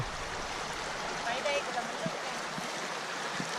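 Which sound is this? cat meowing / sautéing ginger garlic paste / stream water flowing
stream water flowing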